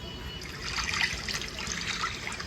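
Water pours steadily onto an Oppo F25 smartphone, a continuous close trickle and splash with no voices over it.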